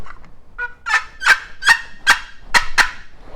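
A handmade wooden turkey call of walnut and butternut is played up close, giving a rapid series of about seven shrill, raspy gobbling yelps that imitate a wild turkey, with no talking.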